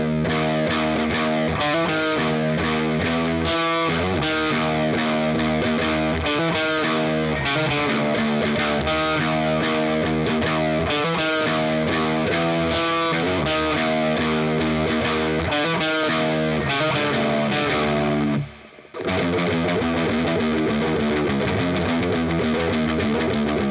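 Heavily distorted electric guitar playing the chugging, repeating riff of a track from DOOM Eternal, loud and dense throughout with one brief break near the end, no voice.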